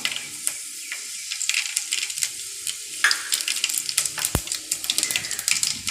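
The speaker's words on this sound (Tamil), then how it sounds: "எண்ணெய் நல்லா காஞ்சிடுச்சு. வெந்தயம் போட்டுக்கலாம், கூடவே கடுகும் போட்டுக்கலாம்." Fenugreek and mustard seeds crackle and pop in hot oil, a dense run of sharp, close spluttering clicks that thickens after a few seconds, with no talk.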